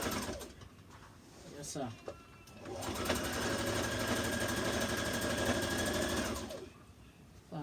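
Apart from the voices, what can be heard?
sewing machine sewing a decorative stitch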